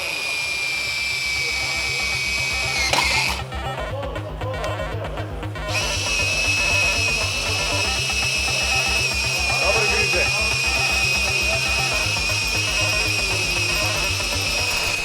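A hole saw cuts metal without cooling at a welding and laser demonstration. It makes a steady, loud, whining grind with a high tonal squeal and a pulsing low rumble, and it breaks off briefly near the start. Faint voices can be heard.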